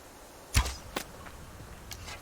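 A bow fires an arrow in the survival video game Subsistence: one sharp, close release snap with a quick whoosh, followed by a couple of fainter thin swishes as the shot flies off.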